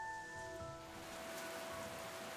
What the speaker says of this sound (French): Il va pleuvoir comme ça jusqu'à ce soir